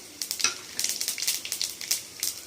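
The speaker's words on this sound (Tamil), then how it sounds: "இப்போ வந்து சின்ன சீரகம் போடுறோம்" Cumin seeds crackle and spit in hot oil along with cinnamon, clove and cardamom. The popping is quick and irregular, stays fairly soft, and plays alone without speech.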